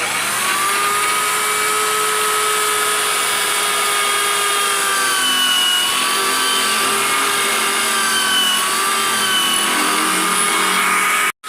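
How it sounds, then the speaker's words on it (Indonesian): A small power drill bores into coconut shell along pencil-drawn lines, whining continuously at high pitch with slight shifts in tone as it cuts, loud and close, ending abruptly. "Dan selanjutnya kita bor ya garis-garis ini. Oke sahabat, langsung saja kita bor."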